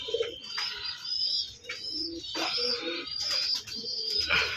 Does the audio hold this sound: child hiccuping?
no